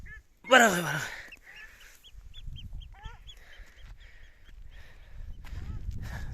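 Ruddy shelducks honk loudly in a burst near the start, then shorter calls and chirps follow against an outdoor background of rustling and wind.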